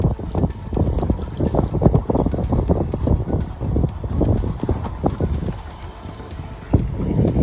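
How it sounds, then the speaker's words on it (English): Wind blows steadily at an outdoor dock, buffeting the microphone with a rough, continuous rumble, with occasional thumps and knocks mixed in. "The wind is blowing this way"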